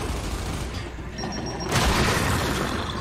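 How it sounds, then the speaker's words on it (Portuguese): Frag grenade exploding in Gears 5, a loud booming blast with a broad rumbling burst that swells partway through and holds to the end. "Granada de fragmentação!"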